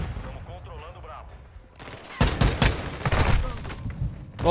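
Bursts of rapid gunfire crack out loudly in the second half of a Call of Duty: Warzone 2.0 match, following quieter game sounds and background voices.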